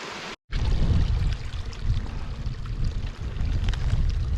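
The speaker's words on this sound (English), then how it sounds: "I've just crossed this little river here on this wire bridge" A small Highland river on the Cape Wrath Trail rushes beneath a wire bridge, a steady close-up burble of flowing water after a short cut at the start, with no voices.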